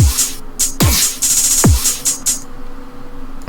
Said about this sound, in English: And then I have this other hi-hat.